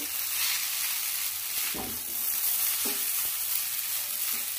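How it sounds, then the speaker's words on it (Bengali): Hakka noodles (chow mein) tossed with winter vegetables over the heat, a continuous close sizzle with a few sharp scraping strokes of a spatula. "ভালো করে সবজির সঙ্গে চাউমিনটাকে মিশিয়ে নেব"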